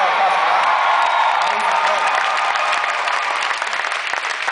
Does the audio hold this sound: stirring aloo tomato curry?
no